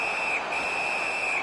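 Referee whistle in the NHL 19 hockey video game: a long, steady, shrill tone held for well over a second with a brief dip partway through, loud over a constant roar of arena crowd noise.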